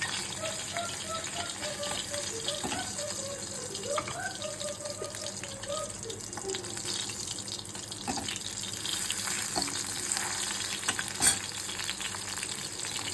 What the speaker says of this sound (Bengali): হয়ে গেছে এই মাছগুলো ভাজা, এগুলো এবার একে একে তুলে দেবো।